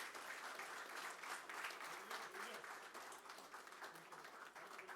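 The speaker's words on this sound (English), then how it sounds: "big round of applause." Audience applause at an MOU signing ceremony for a CFBC lignite power plant, a steady wash of clapping from a crowd with voices mixed in throughout.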